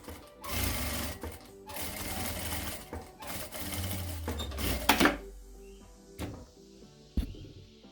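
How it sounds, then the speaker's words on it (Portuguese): A sewing machine stitching a fabric wallet, running in a steady rapid whir of needle strokes for about five seconds, then stopping, followed by a few faint clicks and handling knocks nearby. "E passo uma costurinha de segurança também ali."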